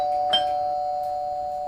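A doorbell rings once with a clear electronic tone that lingers at a steady level, with a faint tap as the button is pressed.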